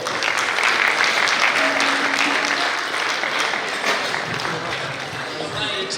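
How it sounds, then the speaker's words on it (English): Applause from an award-night audience fills the whole stretch, loud and continuous, with many hands clapping together and only a slight fade toward the end. "Please join me in giving a round of applause to these 2 formidable ladies, Neitafa Sose and Fatou Jain Senghor"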